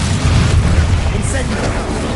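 A Bombarda spell explodes in a video game with a muffled, rumbling boom and a noisy, crackling burst. A voice talks over the blast.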